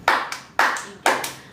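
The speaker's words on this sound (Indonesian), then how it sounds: "kalau ibu sebut siang, kalian tepuk tangan 2 kali" A group of students claps in unison during a classroom exercise, three sharp, close hand-clap pairs spaced about half a second apart, each a quick double clap with no talking.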